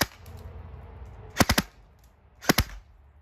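An LCT AK12 airsoft rifle fires two short, quick bursts of about three shots each, a second apart. The snappy cracks stand alone against a quiet background.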